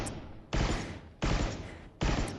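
Three loud, close single shots from a Bulldog rifle in the shooting game Valorant, evenly spaced about 0.7 seconds apart, each a sharp blast trailing into a short decay, with no talk.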